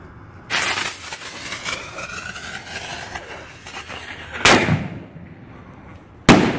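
Firework canister shells burst overhead: a launch thump, then long crackling and glittering effects spreading across several seconds, followed by two sharp, loud reports near the end.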